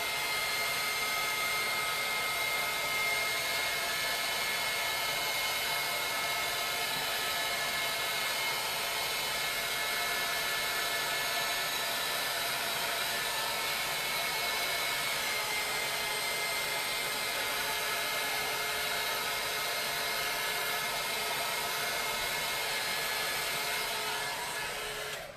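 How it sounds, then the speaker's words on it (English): A heat gun blows hot air over a sink cover to melt wax. It gives a loud, steady, continuous whooshing drone that lasts nearly half a minute with no break and no voices. "I'm going to go ahead and hit it with the heat gun."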